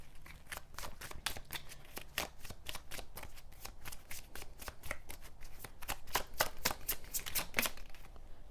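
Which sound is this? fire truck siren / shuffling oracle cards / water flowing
shuffling oracle cards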